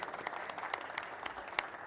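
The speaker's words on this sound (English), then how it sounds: "So give yourselves a round of applause." A lecture audience claps at a live center-stage event, a short, sparse patter of hands that sounds moderately near and fairly soft, with no talk over it.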